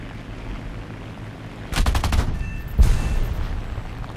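Machine gun fire from a CR.32 biplane in War Thunder, heard as two bursts of rapid shots over a steady engine drone, the first about a second long and the second briefer and sharper.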